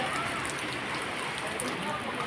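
Strong floodwater rushes through flooded streets in Cainta, Rizal, a dense, continuous broadband wash of moving water that stays loud and steady throughout.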